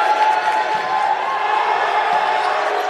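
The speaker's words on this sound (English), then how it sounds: "First time there's some crowd noise." Crowd noise at a men's college basketball game against FDU-Florham, a steady murmur and cheer from the stands with a couple of ball thumps, under a commentator's voice.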